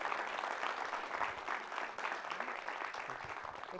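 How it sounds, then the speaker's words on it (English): Audience applause at the close of a talk on designing Mary Washington, dense, even clapping from a room full of people, sustained and moderately loud throughout. "can we give one last round of applause for Michael Spencer?"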